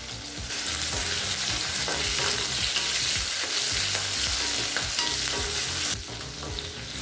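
Small onions and green chilies sauté in a hot pan for samai pongal sambar, with a steady loud sizzle and repeated scraping stirs of a spatula against the pan.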